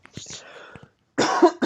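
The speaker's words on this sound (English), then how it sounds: "Oh, sorry, I'm coughing." A man coughs a few times in a podcast setting about a football mock draft. The coughs come as quick, close bursts and are followed by a louder harsh cough.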